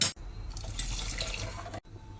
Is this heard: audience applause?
no